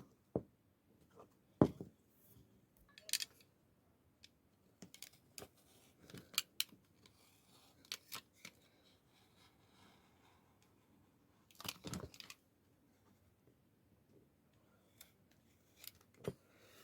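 Scissors snip along a pencil line on paper, a series of crisp, close cuts coming in irregular bursts with quiet pauses between them.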